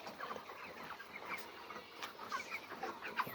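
Chickens on a poultry farm cluck and chatter in a soft, continuous murmur of overlapping calls, faint and somewhat distant, with no talking.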